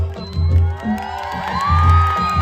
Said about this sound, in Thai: ถ้าพี่น้องพร้อมแล้วข้อเสียงโห่ดังๆ ให้กับพวกเราสักนิดดีครับ